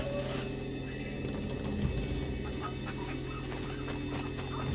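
A chicken clucks in the video game Far Cry 2, small clucking calls heard amid a dense, steady game soundscape with low ambient hum and other effects.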